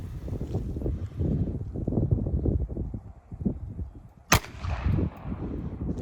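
A single sharp gunshot from a SIG P230 firing a 94 grain .380 round at an Austrian M75 steel helmet outdoors, one loud crack standing out over steady wind rumble and low background noise.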